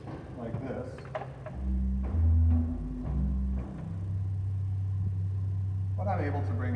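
Low bass notes from a chapel pipe organ over 100 years old, sustained tones stepping between pitches and holding steady, with speech heard at the start and end.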